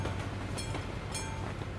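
A train rolls past a level crossing in the Euro Truck Simulator 2 driving game, a steady rumbling rail noise with faint clicking wheel beats running the whole way through, fairly close and with no one talking.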